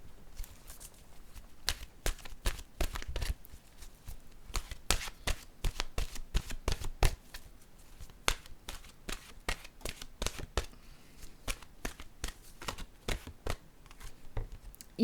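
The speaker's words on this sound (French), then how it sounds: "Allons-y maintenant avec une carte de mon oracle de l'âme intuitive." A deck of oracle cards being shuffled by hand, making quick, crisp riffling flutters and taps in irregular bursts that run almost continuously, close and fairly quiet, with no talking.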